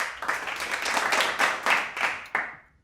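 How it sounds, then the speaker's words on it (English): A burst of clapping is used as a sound effect, loud and steady for about two seconds and then tapering off with one last clap near the end. "Clapping sound effect."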